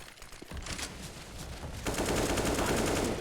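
Rapid weapon spray during a professional CS:GO match on Inferno: quick automatic gunshots rattle in bursts, with fire growing louder and more continuous after the midpoint.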